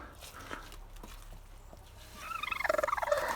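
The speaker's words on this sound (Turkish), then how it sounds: "Tosuncuğun kız kardeşi gıdaklıyor" A hen, the sister of a rooster named Tosun, clucks in a backyard coop after laying an egg: after a quiet stretch of faint ambience, a run of rapid, rhythmic cackles rises close by near the end.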